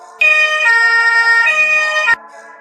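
An ambulance siren wails loudly and up close in a roadside accident scene, a steady two-tone electronic call that holds for about two seconds and then cuts off abruptly, leaving quiet behind.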